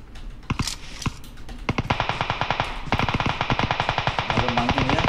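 Rapid automatic gunfire from PUBG Mobile gameplay on the Sanhok map, loud bursts of sharp, evenly spaced shots that grow denser and steadier toward the end, with no talking.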